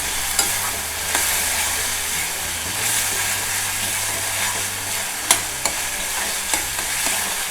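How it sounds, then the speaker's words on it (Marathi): Clam chutney ingredients fry in hot oil with a continuous close sizzle and hiss, with occasional clinks and taps of a spoon against the pan. "पण तेलावर चांगली परतून घेऊया"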